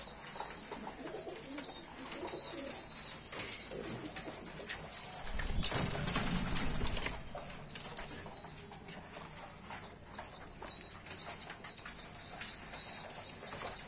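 A flock of pigeons gathers at scattered feed, cooing softly and steadily, with a loud burst of flapping wings near the middle, over a faint outdoor background.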